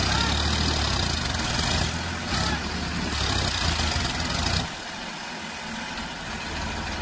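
A Farmtrac tractor engine labours hard, straining to pull another tractor out of a mud pit, a loud heavy roar that suddenly drops to a quieter idle partway through, with no voices.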